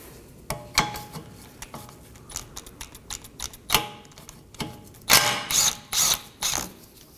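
A hand ratchet loosens a 12mm nut on a trailing arm bracket of a 2018-2024 Toyota Camry, close rapid clicking bursts in uneven runs, growing louder and busier toward the end, no talk.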